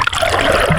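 River water at the Nahara waterfall in Kalumpang, Malaysia, rushes and splashes in a loud, close, continuous wash for a brief moment.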